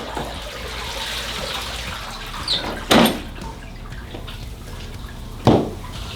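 Water rinses across a resilient floor, a continuous wet splashing with two louder gushes near the end, close and unaccompanied by talk.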